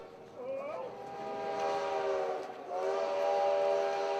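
A Durango and Silverton narrow gauge railway steam train sounds a long, sustained whistle over the rumble of the train, fairly distant, with a short dip partway through.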